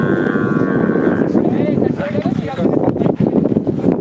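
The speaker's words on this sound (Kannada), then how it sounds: "ಲೋಕಲ್ ದನಗಳು ಕೂಡ ಜಾಸ್ತಿ ಇದೆ" Cattle at a livestock exhibition organised by the Jolle Group, with local breeds present: a loud, close moo opens over wind noise and crowd bustle, and people talk nearby.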